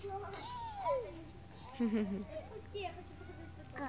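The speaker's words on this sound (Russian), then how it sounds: "Мяу-мяу, он зовет. Зовет своих друзей." A cat meows a few times in drawn-out, rising and falling calls, mixed with soft speech and faint background noise.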